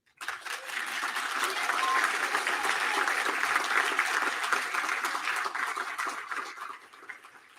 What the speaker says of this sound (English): your applause was supposed to come after this line